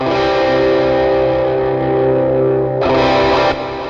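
Distorted electric guitar played through a Lekato Cube Baby amp-modeling pedal with an impulse response loaded, a sustained chord ringing loud and steady, then a fresh brighter strum near the end.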